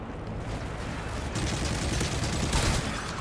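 Dense, continuous gunfire in a shooter video game, with rapid overlapping shots forming a loud, sustained barrage that intensifies partway through.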